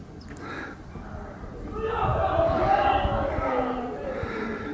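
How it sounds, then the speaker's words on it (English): Distant crowd cheering for Peru's national soccer team during a World Cup match, a broad swelling roar heard from the main square of a Lake Titicaca town, rising midway and holding steady. "The cheering you hear is Peru."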